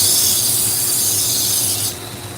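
Work Sharp knife sharpener grinding a blade, a harsh rasping whir with a steady hum that runs briefly and then drops off near the end, no talking.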